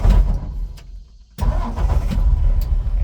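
A 1963 Ford F100 pickup engine turning over and firing, loud and close, with a brief lull before it catches and settles into a steady rumbling idle.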